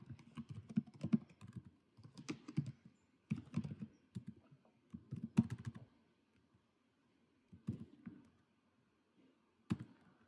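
Computer keyboard typing of C code in a terminal editor, with quick clusters of light, close key clicks broken by short pauses and a longer quiet gap near the end.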